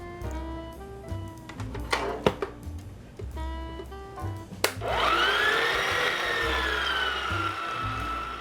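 Rye bread dough of flour, half a cup of sourdough and a package of yeast is churned by an electric mixer, its motor whirring steadily and loudly after a few scattered clanks and knocks.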